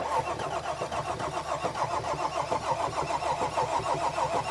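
Mercedes GL350 engine cranking over steadily without catching, a continuous rhythmic starter-motor churn held close and loud for several seconds.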